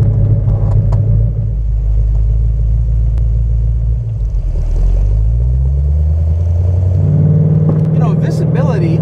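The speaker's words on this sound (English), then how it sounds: "you can hear a Pantera coming from other cars when they're coming down the road" A 1972 De Tomaso Pantera with a Ford V8 drones loudly on the road, a steady deep engine rumble that dips and then climbs in pitch as it pulls through the gears, heard close from inside the car.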